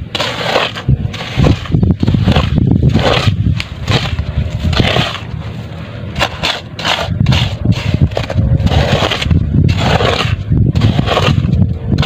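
Repeated crunching scrapes of digging into soil for a fire pit beside a hut, close and loud, coming in uneven bursts with short pauses between strokes.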